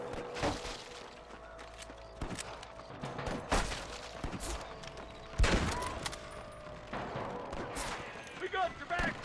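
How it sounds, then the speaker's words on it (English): Gunfire in the Red Dead Redemption video game comes as scattered shots and bursts from a firefight, with sharp reports spread across the scene over background game sound. "Damn fine shooting, boys."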